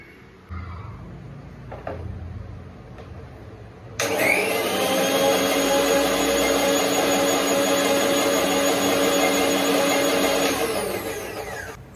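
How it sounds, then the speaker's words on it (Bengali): An electric grinder starts up and grinds cumin into a paste, a loud, steady whirring whine that runs for about eight seconds after a few soft knocks, then winds down to a stop. "এর জন্য এখন আমি জিরেটা বেটে নেব।"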